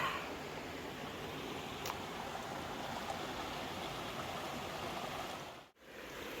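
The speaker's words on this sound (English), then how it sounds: "full of rocks and really pretty cascades" A mountain stream cascading over rocks along the Appalachian Trail near Rutland, a continuous full rushing roar that stays steady throughout, briefly cutting out just before the end.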